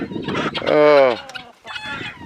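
Farmyard ducks and chickens call in the morning with close, squawking, honking cries, a drawn-out call in the middle and a brief spoken word at the start.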